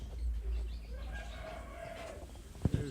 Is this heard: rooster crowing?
yes